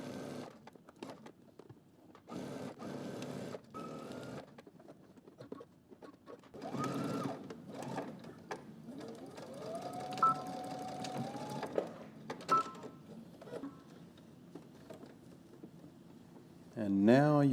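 A sewing machine stitches coat sleeves in short bursts of fast whirring, starting and stopping with pauses between runs and one longer stretch near the middle, while a person talks throughout.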